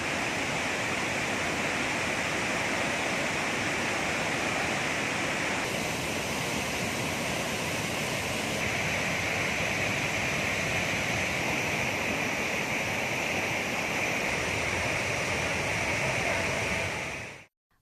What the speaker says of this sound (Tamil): குமரியின் குற்றாலம் என அழைக்கப்படும் திருப்பரப்பு அருவியில் தண்ணீர் ஆர்ப்பரித்து கொட்டுவதால்